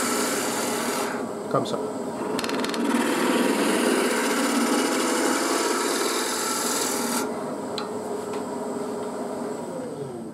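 A hand tool cutting wood chips while hollowing out a small wooden box, a continuous close rasping scrape with a few short breaks, and a brief spoken word over it.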